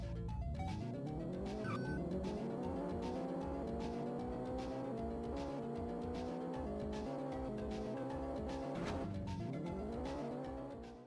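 Racing car engine from the Atari Jaguar game Checkered Flag, a loud, continuous synthesized engine drone whose pitch keeps climbing through gear shifts, with a brief dip and rise near the end, alone without talk.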